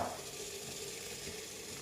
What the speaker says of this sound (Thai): น้ำเดือดเรียบร้อยแล้ว